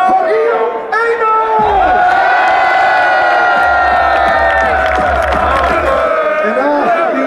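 A stadium crowd at an Ajax home match against FC Twente cheers loudly for players, a sustained roar of shouting, whistles and whoops with low drumming partway through, filling the whole stretch.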